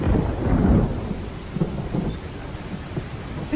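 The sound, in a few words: thunder and rain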